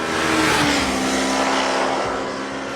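A 2015 Yamaha YZF-R3 small sport bike engine winds out under steady throttle, a loud, continuous high-revving drone with rising pitch, heard close with wind rush and no voices.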